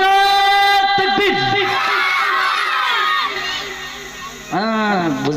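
A large crowd at a ghazal gathering shouts the chant Nara-e-Takbir, loud, close and sustained, with many voices, including children, calling together in rising and falling waves, then a fresh burst near the end.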